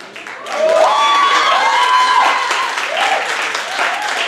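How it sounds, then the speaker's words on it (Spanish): Audience applause at a university research forum after a collective painting exercise, loud clapping that swells in and stays full, with voices calling out and whooping over it. "Un aplauso para todos"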